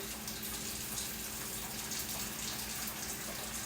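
Hot water runs from a kitchen tap in a steady, even gush of hiss, fairly quiet and continuous with no voices.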